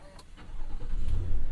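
A 2023 GMC Yukon Denali Ultimate with a 6.2 liter engine starts up close by, the starter's brief whir giving way to a deep, rising rumble as the engine catches and settles into a steady idle.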